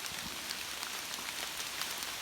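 Steady rain falls in a forest, a dense even hiss of drops pattering on surfaces, with no voices.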